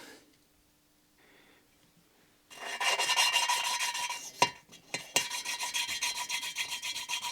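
A close, steady rasping grind of metal rubbing back and forth as an exhaust valve is lapped with coarse grinding paste in a Citroën AZU engine, with a couple of sharp knocks partway through, after a quiet start.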